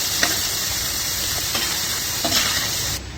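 Potato pieces fry crisp in a pan with a steady, loud sizzling hiss, overlaid by a few soft stirring scrapes, before the sound drops away abruptly at the end.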